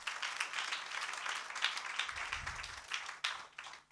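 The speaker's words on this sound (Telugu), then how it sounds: "గట్టిగా చప్పట్లండి." A church congregation claps steadily for a few seconds, a dense wash of hands with a brief low thump partway through and no voices over it.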